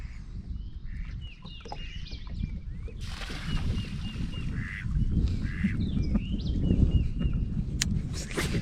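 A duck flies in over Grayson Lake during a spring fishing tournament, giving repeated quacks and calls near to mid distance over a steady low rumble of boat and wind noise.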